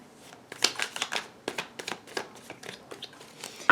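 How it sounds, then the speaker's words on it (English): Tarot cards shuffled by hand in quick irregular bursts of riffling and flicking, close and fairly quiet, with brief gaps between bursts. "I'm taking a very long time shuffling"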